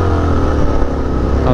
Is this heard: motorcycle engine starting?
yes